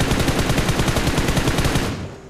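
Rapid automatic gunfire from BGMI gameplay rattles in a loud, fast, evenly spaced burst of shots that cuts off near the end.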